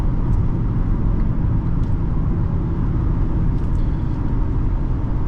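A 2014 Ford Taurus Police Interceptor with a 3.7L engine pulls hard, heard from inside the cabin as a loud, steady low engine and road rumble with no speech.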